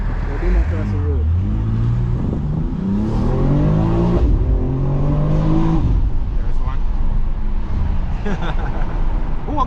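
A 2022 BMW X3M Competition's engine revs up and down from the driver's seat, rising through the gears with a loud, close growl while people talk over it.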